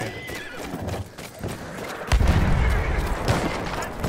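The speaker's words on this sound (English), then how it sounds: "Horse is behind you." A horse whinnies and hooves clop in the Battlefield 1 war game, with a booming impact halfway through and gunfire mixed into the busy battlefield noise.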